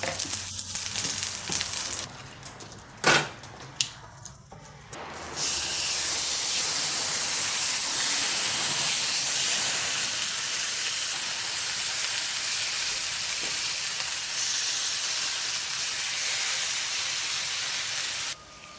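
Marinated beef steak with brown sugar searing in a pan for Filipino bistek: a few seconds of clatter and hiss, then a strong, steady close sizzle that carries on alone to the end.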